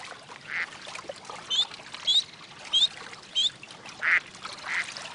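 Ducks quack on the water in a Caillou cartoon, five or six short, moderately loud calls spaced about half a second apart over a soft, steady background hiss, with no talking.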